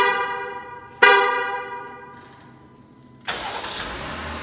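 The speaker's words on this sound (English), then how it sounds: "All you need to do is you press the lock button twice, and then you remote start" A single chirp-like tone sounds as a 2019 Jeep Grand Cherokee Limited X is remote started, then its engine turns over and settles into a steady idle, fairly quiet and nearby.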